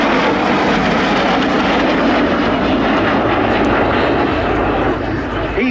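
A Belgian Air Component F-16AM Fighting Falcon jet makes a final topside pass at an air show, its loud, continuous roar filling the air and sustained throughout, with a voice commenting over it.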